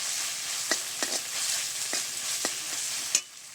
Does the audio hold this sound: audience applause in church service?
no